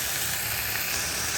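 A steady, close sizzle of food cooking in a pan during preparation of sooji and aloo tikki, an even bright hiss filling the short moment without pause or talking.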